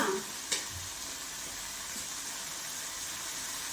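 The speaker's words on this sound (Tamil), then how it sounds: "சிக்கனை சேர்த்து நல்லா வதக்கி விட்டுடலாம்" Chicken sizzling and frying in a pan with onions and turmeric, a steady soft crackle with a light stir clatter near the start, no voices.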